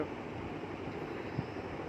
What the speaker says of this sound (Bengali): তো ট্রেনটি এখন আবার ছুটছে।